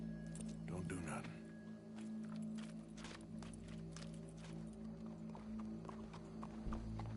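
A horse's hooves clip-clop at a walking pace in Red Dead Redemption 2, fairly soft and steady beneath a low ambient hum, with voices talking over parts of it.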